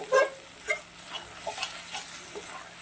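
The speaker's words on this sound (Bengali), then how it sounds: "আমি আর একটু এটাকে নেড়ে চেড়ে নেব" Potato and pointed gourd are stirred with masala in a wok, giving a soft sizzle with irregular scraping and clinking strokes from the spatula, close and moderately quiet.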